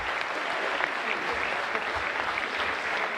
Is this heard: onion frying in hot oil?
no